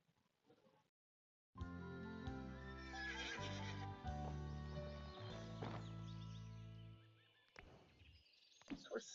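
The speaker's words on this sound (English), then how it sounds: "Here's a horse." Horse in a video game giving a long, loud whinny over layered game sounds, with hoof clip-clop and faint speech near the end.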